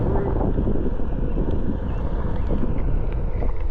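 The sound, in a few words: wind blowing on camera microphone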